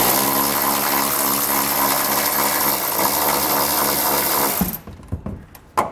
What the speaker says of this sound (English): this is a 15 millimeter bolt that has to come out